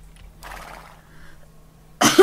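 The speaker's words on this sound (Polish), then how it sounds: "jak na tego konia, to tak jakoś nisko dębuje" A purebred Arabian horse in the video game Star Stable rears and lets out a loud, close neigh at the very end, after a quiet stretch with faint soft noise.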